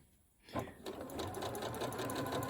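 Sewing machine stitching the seam of an unlined drawstring gift bag, starting after a brief quiet moment and then running steadily and close by, a continuous rapid whir with no talking.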